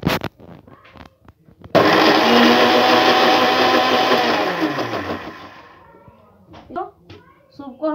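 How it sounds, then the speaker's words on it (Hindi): A kitchen mixer grinder whirs loudly for about four seconds, blending cooled wheat leaf soup in its jar, then winds down; someone talks before and after the run. "अब हम इसको मिक्सी के जार में इस तरह थोड़ा थोड़ा करके डाल के और पीस लेंगे।"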